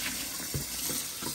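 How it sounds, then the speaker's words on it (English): Warm tap water runs steadily into a sink while orange peels are rinsed under it, giving a close, continuous splash with a few soft bumps and swishes from handling and no talking. "we can basically rinse them in warm water"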